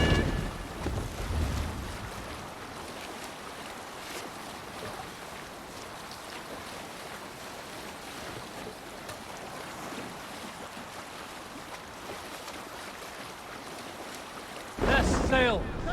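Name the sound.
sailing ship at sea in video game Assassin's Creed Valhalla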